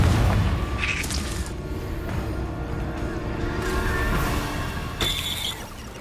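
A Confringo blasting spell goes off in the Hogwarts Legacy video game, heard as a deep booming rumble that holds steady for several seconds, with bright magical zaps near the start and end and no talking.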